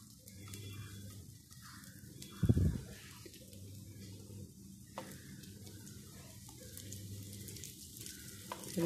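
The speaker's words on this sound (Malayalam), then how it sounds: "ഈ വെളിച്ചെണ്ണയിലേക്ക് ഇതിങ്ങനെ മുരിക്കാനായിട്ട് വയ്ക്കാം." Small roti fry in coconut oil in a pan with a soft, steady sizzle throughout, broken by one sharp clatter early on. Faint chirps sound in the background.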